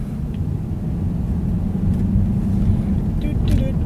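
A 2012 Cadillac CTS-V with 595 horsepower pulls hard, its deep engine roar swelling steadily louder inside the cabin as it accelerates, with no talking over it.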